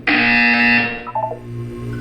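A harsh electronic buzzer from the video game Portal 2 sounds once, loud and steady for under a second, then cuts off, leaving a faint low hum with a few soft tones.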